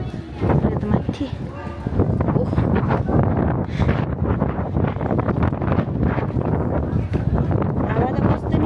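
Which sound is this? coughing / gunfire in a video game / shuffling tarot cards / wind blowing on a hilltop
wind blowing on a hilltop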